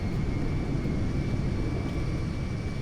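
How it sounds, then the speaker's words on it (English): A McDonnell Douglas MD-11 airliner roars in reverse thrust in GTA 5, a loud continuous jet rumble with a thin steady whine running through it. "Reverse thrust."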